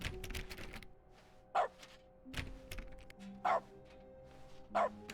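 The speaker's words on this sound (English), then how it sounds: "Every time I click, we get a bark." Short dog-bark sound effects triggered by mouse clicks in the video game The Stanley Parable, three separate woofs spaced a second or two apart, mixed with soft clicks and thuds.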